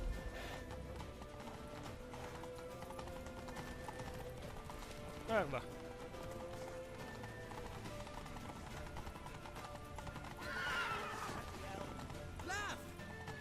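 Horse hooves clip-clop and a horse whinnies amid hurried shouting voices and battle noise in The Witcher 3: Wild Hunt, the neigh rising briefly mid-clip over steady background commotion.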